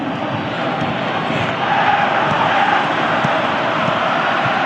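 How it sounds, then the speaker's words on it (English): A stadium crowd roars in a PES 2018 football match with AS Monaco, a broad continuous rumble of massed voices that swells noticeably louder partway through and holds there. "you can hear how the crowd are reacting to this too"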